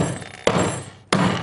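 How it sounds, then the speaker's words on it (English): Two sharp hammer blows strike a punch through a Mokume Gane washer ring blank, each a loud close impact followed by a ringing decay, spaced about two-thirds of a second apart. "Now hopefully I can do this in at least 2 hammer blows."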